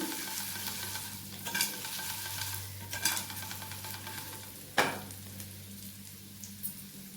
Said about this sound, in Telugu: చూడండి కాకరకాయ కలర్ వచ్చినాక ఫ్రై చేసేసుకోవాలి